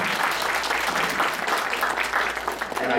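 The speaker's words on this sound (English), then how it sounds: "Have a round of applause." Dense, steady applause fills a college town hall meeting, a roomful of hands clapping continuously at even loudness throughout.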